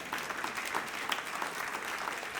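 Applause from a church congregation during a sermon: dense, steady clapping from many hands that holds at an even level throughout, with no voices over it.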